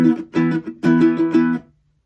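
Close, solo acoustic guitar strumming pattern 5A, with crisp chord hits and muted strums in a quick rhythmic figure lasting under two seconds before falling silent.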